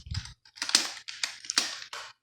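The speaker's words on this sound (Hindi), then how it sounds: "अभी मैं इसके अंदर कोई भी चीज़ टाइप करता हूँ" Keys clatter on a computer keyboard in quick, uneven bursts of typing with short pauses, close and fairly quiet.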